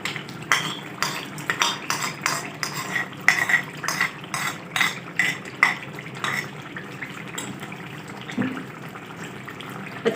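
A spoon stirs yogurt into beef karahi in a metal pot, giving repeated scraping and clinking strokes in an uneven rhythm with soft wet squelches, close and moderately quiet.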